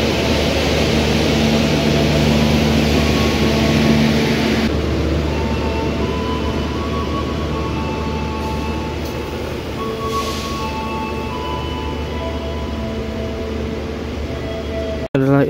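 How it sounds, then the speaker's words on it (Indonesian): Pangrango passenger train leaving platform 2 for Bogor, carrying four premium and two executive coaches: a steady, loud rumble with a humming drone that shifts partway through, continuous throughout. "kereta api Pangrango diberangkatkan dari jalur 2 menuju tujuan akhir stasiun Bogor"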